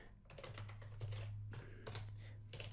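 Keystrokes on a computer keyboard as a name is typed into a Wix price-quote form, a quick irregular patter of close clicks over a steady low hum, with no talk.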